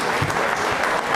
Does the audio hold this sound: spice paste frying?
no